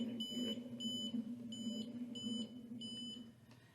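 Electronic beeps sound from a magnetometer circuit each time its reading peaks above 1 Gauss: five short high-pitched tones in a steady rhythm, heard clearly over a low constant hum.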